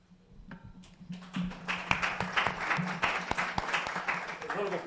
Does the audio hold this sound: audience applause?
yes